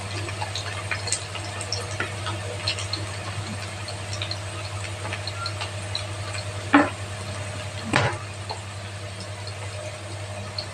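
Potatoes frying in a pan, a steady soft sizzle with a low background hum and two sharp stirring scrapes near the end, no talking.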